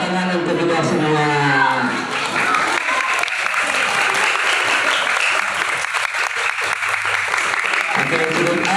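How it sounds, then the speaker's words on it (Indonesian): An audience of children and adults at an Islamic religious lecture breaks into loud, sustained clapping that follows someone speaking, with chatter mixed in before the applause fades and speech resumes. "tepuk tangan untuk kita semua."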